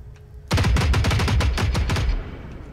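Shotgun fire in Generation Zero, a rapid burst of about a dozen loud, sharp blasts in quick succession lasting under two seconds, then fading to a low tail.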